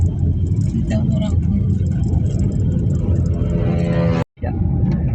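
Trucks and buses pass along a busy intercity road between Medan and Kisaran, making a steady loud engine rumble and road roar close by, with a vehicle sweeping past near the end.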